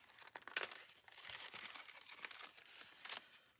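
A paper envelope is handled and crinkled up close, with soft irregular rustles and crackling bursts rising and falling across a few seconds, faint and with no talking.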